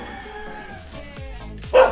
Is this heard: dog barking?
yes